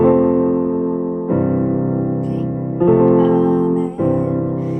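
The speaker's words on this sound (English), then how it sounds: "is called a plagal cadence, and that is chord 4 to chord 1, sometimes called the Amen cadence" Two sustained chords of a plagal (Amen) cadence, chord four moving to chord one, then repeated, giving a gentle resolving close; no voices.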